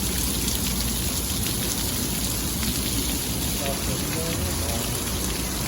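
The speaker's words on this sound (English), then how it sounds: "We're just walking in the rain." Steady, dense rain hisses throughout while walking outdoors in Brazil, a continuous close wash of drops with no break and no talk.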